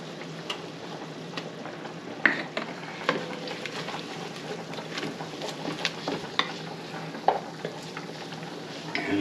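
A spoon stirs flour through hot fat in a Dutch oven while it browns, giving a steady soft scraping and sizzle with scattered light ticks of utensil against the pot, moderately close.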